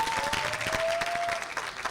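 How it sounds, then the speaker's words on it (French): Audience applause at a televised talent competition broadcast, a dense wash of clapping from a crowd, moderately distant, with a steady tone running through it and no voices. "applaudissez bien sûr"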